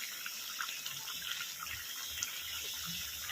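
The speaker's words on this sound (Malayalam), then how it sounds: "തലപ്പാൽ ഒഴിക്കാൻ പോവുകയാണ്" Thick coconut milk pours into a Kerala-style fish molly curry made with karimeen, a steady liquid rush with no talking.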